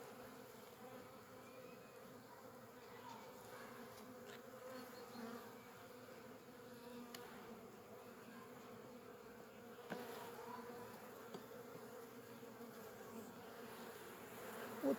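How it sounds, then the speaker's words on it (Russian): Honey bees swarm and buzz steadily around an opened hive frame at a beekeeper's apiary in Belarus, a dense agitated drone with small clicks and knocks near the end, no voices. "Пчелы недовольные."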